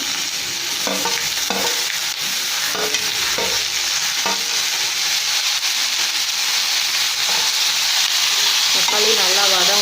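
Five ripe tomatoes sautéing in a pan for Tamil tomato chutney crackle with a loud, close, steady sizzle, punctuated by scattered scraping strokes of a spatula as they are stirred.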